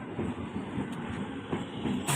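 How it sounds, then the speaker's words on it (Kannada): A passenger train pulling into a station, its heavy steady rumble and rolling wheel noise filling the short stretch, fairly close, with a couple of faint metallic clanks and no speech. "ಫೈನಲಿ ಬಂತು ನಮ್ಮ ಟ್ರೈನು."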